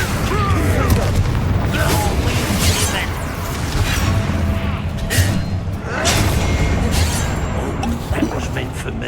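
A Bombarda spell blast in the Hogwarts Legacy video game gives a booming, thudding explosion amid ongoing combat effects and game music, with voices talking through the fight.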